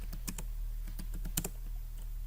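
Typing on a computer keyboard while building an Android app, with quick irregular clusters of close keystrokes over a steady low electrical hum.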